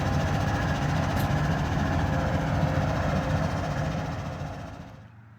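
BNSF Evolution Series diesel locomotives idle coupled to a CSX ballast train of orange hoppers, a deep steady engine rumble with a low throb that fades and cuts out near the end.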